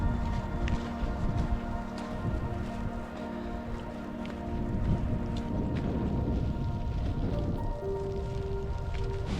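Cold rain falls on a seashore in a steady patter with gusts of wind buffeting the microphone, and a low hum runs underneath.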